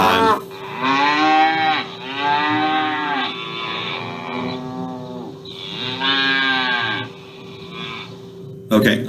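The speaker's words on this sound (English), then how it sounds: "Some cows this time." Several long, loud cattle moos rise and fall in drawn-out calls, separated by brief pauses, over a steady low hum.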